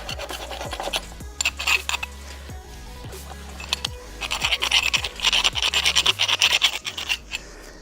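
Coarse file rasping along a metal aerator pipe on a homemade lawn core aerator, with repeated scraping strokes in an irregular rhythm, growing denser and louder toward the end, close up with no talking.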